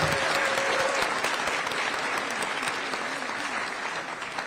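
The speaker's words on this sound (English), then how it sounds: "Let's give them a big round of applause." An audience applauds at a high school awards evening celebrating student accomplishments, a dense, steady wash of clapping that holds at even loudness throughout, with a few faint voices mixed in.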